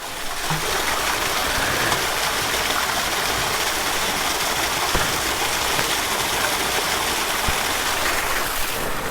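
Water is poured over an NS200 motorbike, splashing steadily onto its hard surface, a continuous hissing spatter with a few faint knocks beneath it.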